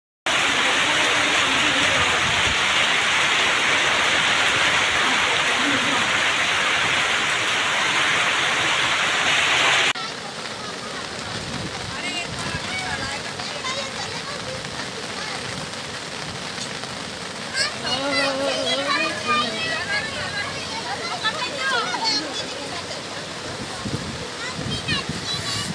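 Torrential monsoon rain pours down as floodwater rises into low-lying neighbourhoods, a loud, steady roar for the first ten seconds, then a quieter wet backdrop under talking.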